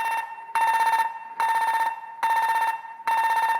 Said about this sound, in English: the gas alarm,